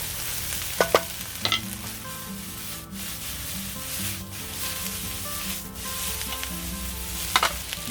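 Prawns stirred in a sizzling pan over a camp stove, a continuous close sizzle with rubbing scrapes of a utensil and a few sharp clinks against the pan.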